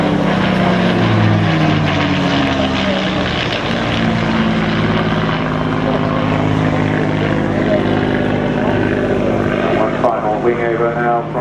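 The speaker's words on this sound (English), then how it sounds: "one last pass now for the Spitfire" A Spitfire propeller aircraft roars past at an airshow in Eastbourne, its engine drone loud and steady before the pitch shifts and fades slightly at the end.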